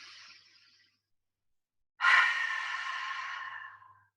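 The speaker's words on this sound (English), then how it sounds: "exhale is out through the mouth like you're steaming up a mirror" A single loud, breathy exhale pushed out through an open mouth, as if fogging a mirror, during a relaxation breathing exercise. A faint nasal inhale comes first, then a pause before the long exhale.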